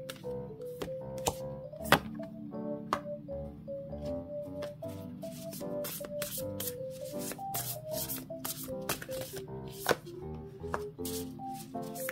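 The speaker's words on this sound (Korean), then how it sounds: "카드 먼저 뽑아보도록 하겠습니다" Tarot cards shuffled and drawn by hand for a Year of the Dragon reading, a steady run of crisp riffling flicks and soft slaps, close and fairly quiet, with a light tonal melody playing underneath.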